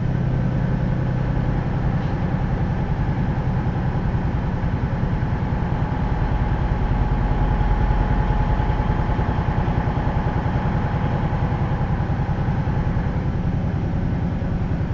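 A heavy truck's diesel engine with the Jake brake switched off runs steadily, a continuous low rumble at constant loudness with no retarder chatter.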